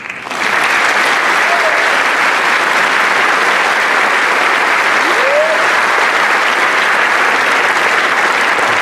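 Sustained applause from a large crowd at a city inauguration ceremony in Aurora, steady and loud throughout, with a few faint whistles.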